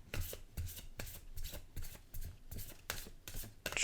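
A Folktails Oracle card deck is shuffled by hand in quick, rhythmic riffles, close up and fairly quiet, with no voices.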